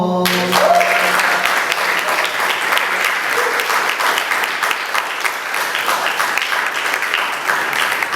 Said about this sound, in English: Put your hands together, give a big Coquitlam welcome.